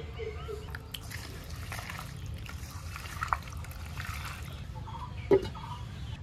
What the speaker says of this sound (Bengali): এবার নুন আর সর্ষের তেল হাতে নিয়ে মাংসগুলো ভালোভাবে মাখবো।